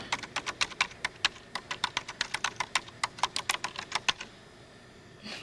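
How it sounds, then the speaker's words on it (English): Someone typing a web address on a computer keyboard, a quick run of about twenty-five crisp key clicks in an uneven rhythm, close up, then a pause. "You just type in the address up here."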